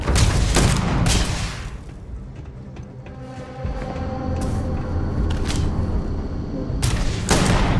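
Gunfire from the video game Starfield: loud sharp shots and booming blasts at the start and end, with a lower rumbling stretch of combat noise and faint tonal effects between them.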